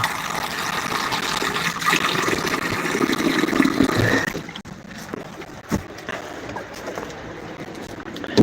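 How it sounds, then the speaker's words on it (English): Water pours steadily into a pet's water dish for about four seconds, a near, moderately loud splashing fill. It then stops, leaving a quieter room with a few faint knocks. "Let me fill the water dish for him while I'm standing up here."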